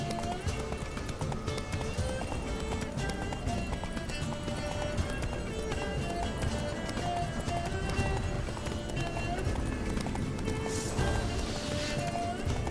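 Steady rhythmic hoofbeats of Geralt's galloping horse in The Witcher video game under a dense, loud wash of music and ambient noise, continuous throughout.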